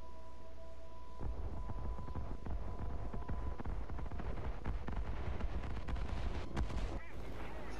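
Bombs dropped from a Farman F.222.2 bomber in a flight game burst on a base, a run of heavy rumbling blasts and crackling impacts piling up over a steady engine drone, with a sharp final thump.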